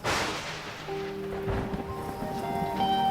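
Steady rain pours throughout with a low rumble of thunder rolling underneath, joined by faint tonal hums from the scene; no one speaks.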